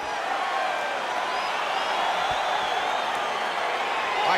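An arena crowd in the video game EA Sports UFC 4 keeps up a continuous roar of cheering and murmuring, with a few faint whistles rising out of the dense wash.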